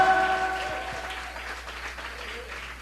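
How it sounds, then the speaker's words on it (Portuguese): Church congregation applauding during a Portuguese-language worship service, a broad wash of clapping that starts fairly strong and slowly fades over a few seconds, with sustained organ or keyboard tones underneath at the start. "pode dar um aplauso ao Senhor"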